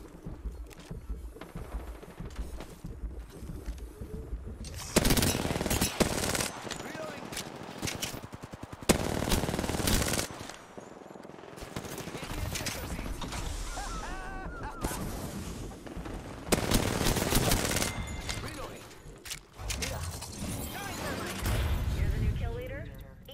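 Submachine gun fire in a battle royale shooter game, with bursts of rapid automatic shots coming in repeated waves, loud and close, while players talk over the action.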